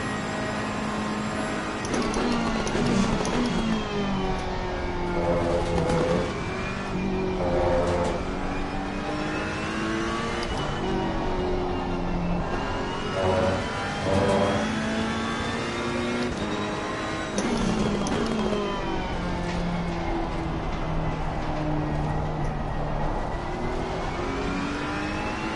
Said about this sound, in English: Faster car approaching.